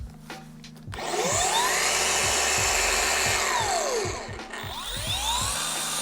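A Flex cordless rotary polisher spins at low speed on a detailing job, a steady whirring hum with rising and falling pitch sweeps that holds for several seconds after a brief quiet start.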